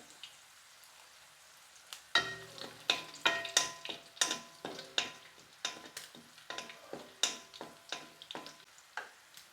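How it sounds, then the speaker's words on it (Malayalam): Ginger and garlic fry in hot oil left over from frying anchovies for a homemade fish pickle, a steady crackling sizzle broken by repeated sharp metallic stirring clinks, close and fairly loud, no voices. "ഇനി ആ എണ്ണയിൽ തന്നെ ഇഞ്ചിയും വെളുത്തുള്ളിയും കൂടെ മൂപ്പിച്ചെടുക്കാം"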